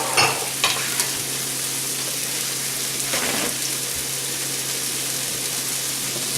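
Bacon fries in a pan with a loud, continuous, close sizzle and a few utensil clicks and scrapes near the start.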